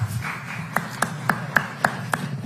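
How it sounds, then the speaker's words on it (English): Sparse, evenly spaced handclaps from an audience at a DC statehood bill announcement in Washington, a handful of sharp claps over steady room noise. "All right, nice round of applause."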